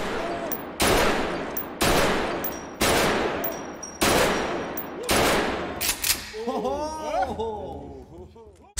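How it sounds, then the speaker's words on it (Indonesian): Loud rapid bursts of gunfire from a shooting practice scene in a film, roughly six sharp volleys in steady rhythm, followed by overlapping voices and laughter near the end. "Setelah latihan menembak"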